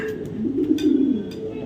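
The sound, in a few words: racing pigeons cooing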